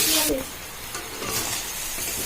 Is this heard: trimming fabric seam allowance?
no